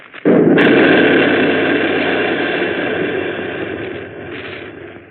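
Artillery gun firing in a radio drama battle scene: one sharp blast after a brief pause, then a long, loud, dense roar and rumble that slowly fades.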